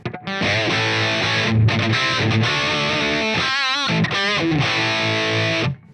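Electric guitar played through a POD HD500X tube distortion with the parametric EQ gain turned down: loud, sustained, saturated chords and notes ringing continuously, with a brief wavering bend near the end before it cuts off abruptly.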